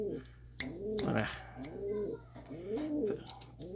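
Repeated soft pigeon coos from an antique-type racing pigeon, three or four rising-falling phrases close by, with a steady low hum underneath and a few sharp clicks.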